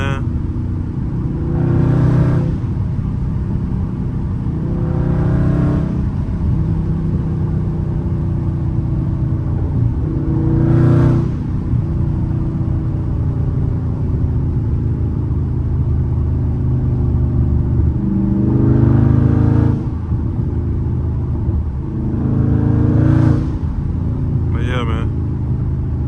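A Dodge Charger Scat Pack rumbles low and constant while driving, with a few brief revs rising and falling every few seconds.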